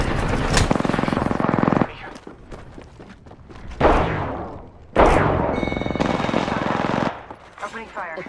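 Automatic gunfire in Apex Legends rips out in several long, loud bursts separated by short pauses, up close, with some clatter between bursts.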